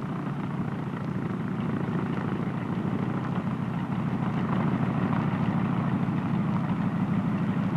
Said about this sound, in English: follow the signals of your plane captain as you taxi out of the line